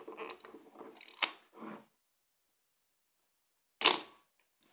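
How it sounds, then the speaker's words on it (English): A Pentax ME camera shutter fires once with a crisp mechanical snap, sharp and close, after a few earlier clicks and handling noises and a stretch of silence. "the shutter is faster"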